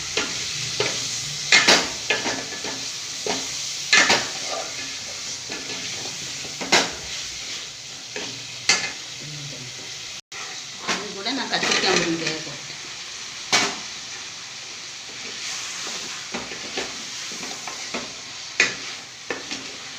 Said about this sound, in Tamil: கருவாடை கிண்டி வச்சுட்டு இது வந்து அரைச்ச மசாலாவில் கொஞ்சம் எடுத்து வச்சுருக்கேன் அதை போட்டு கிண்டி விடணும்